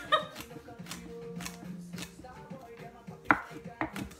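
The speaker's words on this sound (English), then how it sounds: "let me see if I could do fancy chopping" Sharp knife finely chopping celery stalks, a run of quick, close, crisp taps in an uneven rhythm with a few louder strikes near the end, no talking.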